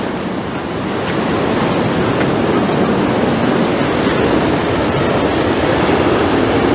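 Heavy sea waves crash against the Dawlish seawall in a loud, continuous surging roar mixed with gusting wind, with no voices heard.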